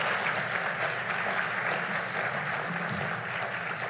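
Audience at a United Nations Summit of the Future session gives a round of applause, dense, steady clapping filling a large hall at an even level.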